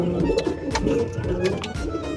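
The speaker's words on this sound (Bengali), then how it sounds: "এই যে একটা চোখের পায়রা সবুজ" Pigeons from a newly set breeding pair collection coo in a soft, continuous murmur, steady and fairly close throughout with no talk over them.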